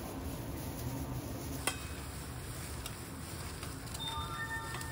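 Rice paper salad (bánh tráng trộn) is tossed and mixed in a bowl, giving a soft, continuous rustling and scraping with one sharper clink partway through, close and moderately loud.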